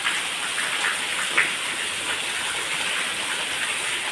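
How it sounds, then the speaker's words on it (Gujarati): Steady heavy rain roars without pause, a dense hiss of water pouring off a flat roof and splashing down, loud and continuous with no voices. "આ બાજુ આપણે ધાબા ઉપર ઘણું પાણી ભરાનું, તે જો ફૂલ પાણી નીચે આવે છે"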